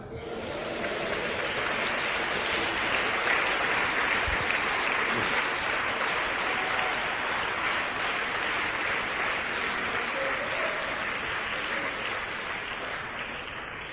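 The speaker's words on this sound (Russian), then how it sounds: "Дайте Богу аплодисменты" A large church audience applauds continuously for about fourteen seconds, a dense, even wash of clapping with no voices standing out.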